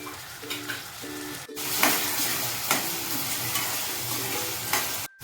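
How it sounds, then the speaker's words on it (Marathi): Chopped onion frying with curry leaves, ginger-garlic paste and asafoetida in a pan for a Konkani-style fresh cashew curry, a steady sizzle with occasional scraping stirs of a spoon and a few soft clinks, close and without talk. "कांदा थोडा लाल होईपर्यंत त्याला ढवळायचा आहे"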